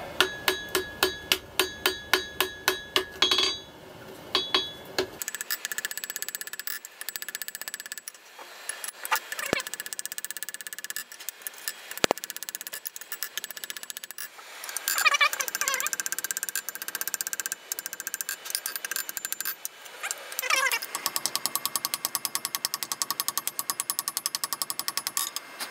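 Hammer blows on hot steel being flattened into a shovel blade at a blacksmith's anvil, a rapid run of sharp ringing strikes at the start, then scattered clanks and metallic work noise.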